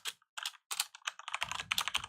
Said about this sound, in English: so I'm going to type over here